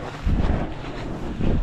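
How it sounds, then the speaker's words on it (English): Wind gusting across open snow outdoors at the South Pole in Antarctica, a broad low rumble buffeting the microphone in two stronger surges, loud and close with no voices. "A little bit windy"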